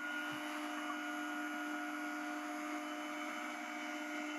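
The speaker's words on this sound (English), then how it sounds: "Turn the stop feeder on, you see the wheels moving" Stock feeder wheels running on a woodworking machine in a cabinet shop, a steady droning motor hum with a whine, constant and moderately loud without talk.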